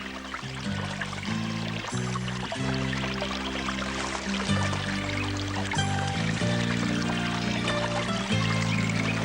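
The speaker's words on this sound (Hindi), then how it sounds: "आगे बड़ा सा झरना है," Steady dense rushing water of a large waterfall roars continuously, under a sustained layer of low musical tones, loud and unbroken, with no voices.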